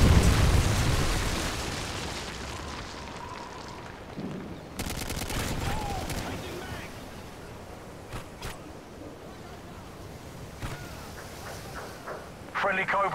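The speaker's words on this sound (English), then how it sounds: "Friendly Predator missile inbound." A Predator missile strike in Modern Warfare 3 multiplayer lands amid a burst of gunfire, with a loud blast rumble followed by scattered shots and pops, under game announcer voice lines.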